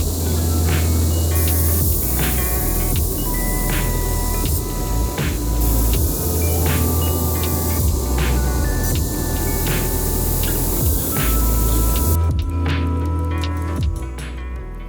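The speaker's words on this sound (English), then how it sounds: "now we're going to finish grinding" Grinding a hardened mosaic Damascus steel knife blade on a belt grinder in a bladesmith's shop: a loud, steady abrasive hiss and motor hum runs continuously, pausing briefly near the end as the blade lifts off.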